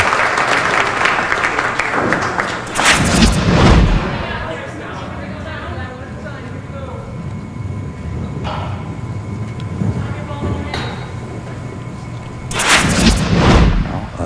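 A 5-pin bowling ball crashes into the pins during a televised quarter-final, two loud clattering impacts several seconds apart over a noisy alley hall, with a commentator talking in between.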